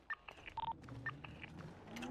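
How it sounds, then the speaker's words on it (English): Repeated electronic radio button beeps in a video game police roleplay scene: short tonal chirps and dial-like tones recur several times over two seconds, fairly faint, with a low murmur underneath. "Someone is hitting the radio button."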